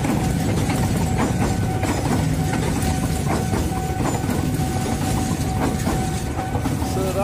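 A Serayu train rumbles past close by at Pondok Jati, wheels clattering rhythmically over the rails with a steady roar and hiss throughout.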